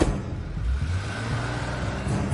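A car engine idles and then pulls away nearby, a low rumbling drone that swells slightly as it moves off, with no talking.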